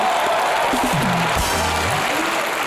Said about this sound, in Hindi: और इस बात के लिए सच्ची आपके लिए तालियां मिलती है